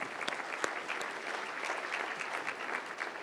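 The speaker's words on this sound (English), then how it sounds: "So give yourselves a big round of applause." An audience at a Hawai'i healthcare summit opening plenary breaks into a round of applause, steady dense clapping lasting several seconds without talk.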